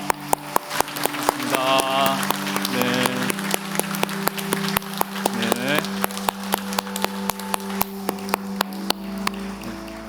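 A church congregation at a Sunday worship service claps in thanks for its elderly members, with loud regular claps close by over a sustained hum, and a brief spoken word of thanks partway through.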